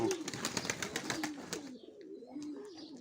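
Pigeons and doves coo from close by, giving low, soft, repeated calls. A burst of flapping or clatter comes early, then the cooing carries on alone.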